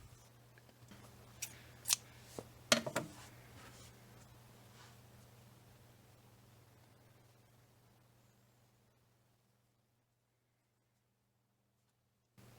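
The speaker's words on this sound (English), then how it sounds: "go ahead and cut and tie off your yarn" Scissors snipping crochet yarn, a few sharp close clicks over faint background hiss, followed by quiet and no talk.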